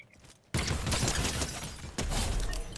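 A bomb explodes in the Fortnite video game: after a quiet moment a sudden loud crashing burst erupts, followed by sustained rumbling debris and a second sharp blast near the end.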